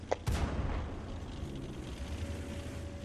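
A heavy gun fires once in the tank game World of Tanks, a sharp loud boom followed by a rumbling decay and a low steady battle hum, with no talking.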